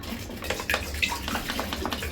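Water pours into a cooking pot to be brought to a boil for a Filipino dish, a short splashing, trickling flow with faint metallic clinks, heard close and alone.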